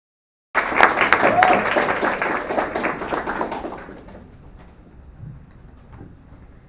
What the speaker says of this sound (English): Let's give a round of applause for our next head chair, Yo-Yo Yang from the International Maritime Organization